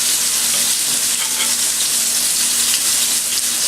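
Butter sizzling and frying in a reheated pan, a loud, steady crackling hiss heard up close throughout with no talking.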